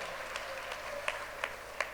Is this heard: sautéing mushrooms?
no